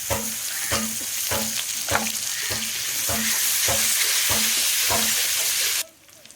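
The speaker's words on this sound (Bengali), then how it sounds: "পেঁয়াজ আর রসুনটা দেখুন ভাজা ভাজা করা হয়ে গেছে আমার।" Onion and garlic fry in a pan, with a loud continuous sizzle broken by regular rhythmic scrapes of a stirring utensil roughly every half second, then the sizzle cuts off abruptly near the end.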